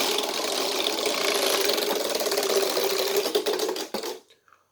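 A homemade Wheel of Fortune model wheel spins with a rapid, steady clatter of clicking pegs that gradually slows into distinct ticks before stopping abruptly.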